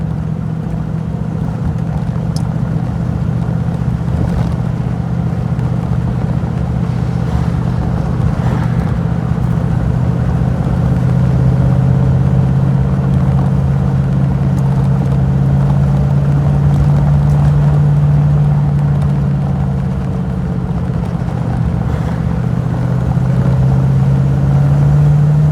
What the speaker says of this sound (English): the Chimeara pulls up over here very easily with the grunt of the V8